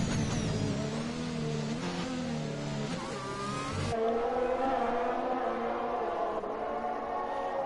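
Alpine race car in a racing video game at the Austrian Grand Prix circuit, engine revving loud and close with rising and falling pitch through gear changes, a sharp shift midway, no talk over it.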